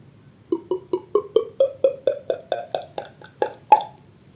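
Mouth-made gulping pops imitate drinking water: a steady series of about fourteen hollow, rising plops, close and clear, with no talking.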